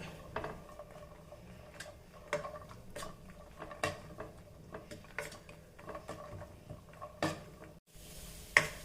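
Cashews and raisins fry in a pan with a faint sizzle, while a spoon clinks and scrapes against the metal in irregular close taps.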